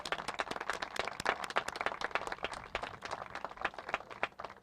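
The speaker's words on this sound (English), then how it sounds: "ask you guys to give him a special round of applause." Light, sparse clapping from a small outdoor crowd at a cruise dock groundbreaking ceremony in Milwaukee, faint and uneven with distinct individual hand claps.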